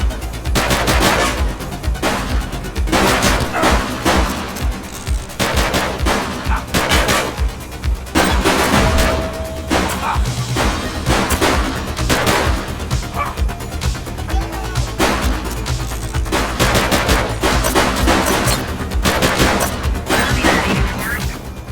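Gunfire during a police shootout in the video game The Precinct: loud, rapid bursts of shots and automatic fire that continue nearly without pause, with voices mixed in.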